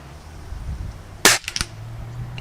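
A Gamo Big Cat air rifle fired at a 30-metre target in the snow, a single sharp close crack followed by a few quick metallic clicks, set against quiet outdoor background.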